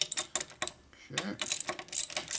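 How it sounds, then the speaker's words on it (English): A ratchet tightens a fitting on a 2001 Indian Scout engine during a rebuild, giving a few close, quick bursts of light clicking with a short pause in between. "Use a ratchet for this to get it quick"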